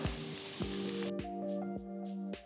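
Turmeric, chilli powder and asafoetida sizzling in a frying pan, heard as a spitting crackle with several sharp metallic taps of a spoon against the pan, a faint ringing tone behind them, and no voices.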